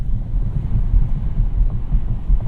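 Wind roars through the open window of a 2024 Genesis G90 sedan while driving, a low, rumbling buffeting that pulses unevenly and stays loud and continuous.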